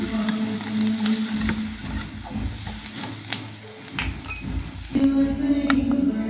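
Spices such as chilli, coriander and turmeric powder are stirred into masala frying in a pan for a street-stall salna. The oil sizzles steadily while a spoon scrapes and clatters against the pan.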